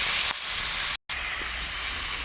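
Potatoes with turmeric frying in a pan, a steady broadband sizzle and hiss running throughout, briefly cut out for a moment midway before resuming at the same level, with no voices.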